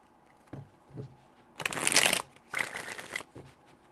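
A deck of tarot cards is riffled in two quick, crisp bursts, close and clear, with a few light taps and slides of the cards before and after.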